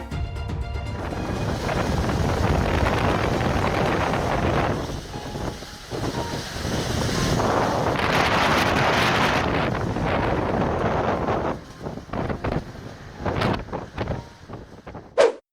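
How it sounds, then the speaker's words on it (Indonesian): Strong wind roars in a storm that scatters ice along streets and through a residential area, a loud, gusting broadband rush that surges and fades and breaks into sharp buffeting bursts toward the end. "angin kencang ini sempat menghantam gardu listrik dan es yang bertebaran di sepanjang jalan"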